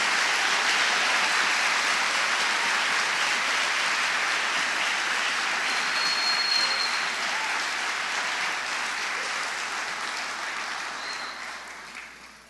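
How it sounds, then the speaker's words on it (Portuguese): A church congregation applauds loudly and steadily, a dense continuous wash of clapping that holds for several seconds before tapering off at the end. "Se é para o Senhor, dê um aplauso bem forte para Ele."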